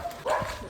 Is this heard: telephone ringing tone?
no